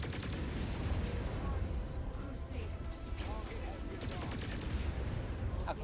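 Mech weapon fire in the game MechWarrior 5: Chaos Reign, a dense, continuous barrage of loud gunfire and explosive blasts with crackling bursts, mixed with game noise throughout.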